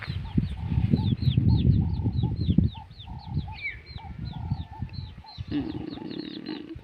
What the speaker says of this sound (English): Yes, this is traditional chicken, the traditional breed.